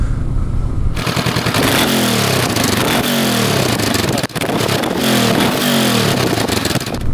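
A 2019 Honda CB500X motorcycle engine runs loud and close while riding, a steady rumble that rises and falls through repeated revs and gear changes.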